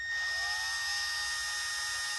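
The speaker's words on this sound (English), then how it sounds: "So I can guide it better as I drill through." A high-pitched drill whines steadily and continuously, the motor sound shifting slightly in pitch as it bores through material while a Dell Inspiron 5575 laptop is taken apart.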